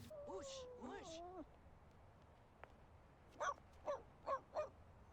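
A pet dog in The Sims 2 barks four times in a quick, evenly spaced series near the end, following earlier whiny, yelping game sounds, with no talking.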